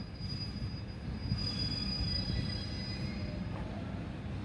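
An ALSTHOM 4143 diesel locomotive hauling a special train rolls slowly into a platform at Hua Lamphong station, with a steady low rumble of wheels and engine and a faint high squeal of wheels on rails.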